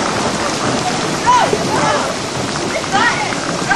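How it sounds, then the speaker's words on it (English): Heavy rain pours steadily during an outdoor camp thunderstorm with lightning, a dense continuous patter, while excited voices shout over it. "It's raining and lightning!"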